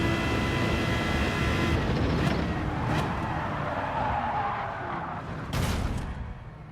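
A racing car in a racing video game brakes hard at the curb, with tyres skidding and squealing. The engine roars steadily throughout, with brief sharp bursts of tyre squeal toward the end.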